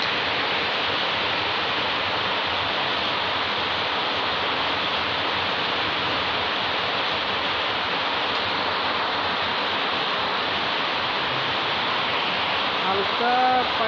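Country chicken and potatoes sizzle and fry in a pan, a steady, dense crackling hiss that runs evenly throughout at close range.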